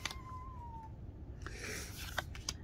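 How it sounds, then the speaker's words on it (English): A house cat meows for attention during a card-pack opening, giving a faint, fairly distant meow followed by a couple of quiet squeaky calls, all at low level against a soft background hiss. "Yeah, the cat wants attention."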